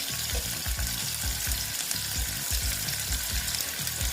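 Potatoes with turmeric frying in a pan, a loud continuous sizzle layered with regular stirring strokes, close and dense from start to finish.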